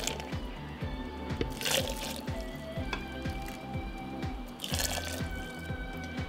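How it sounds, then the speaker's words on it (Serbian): Boiling water poured into a glass jar gives a steady wet trickle with bubbling and dripping, moderately close and continuous, with no talk. "I sada sa proključalom vodom napunit ću teglu."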